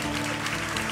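A church congregation clapping together, a brief dense spatter of applause heard close by with no pause.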